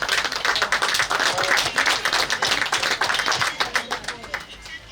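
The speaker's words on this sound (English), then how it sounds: "give her a rousing round of applause" Audience at a community celebration and centre unveiling clapping steadily, a dense round of applause that thins out toward the end.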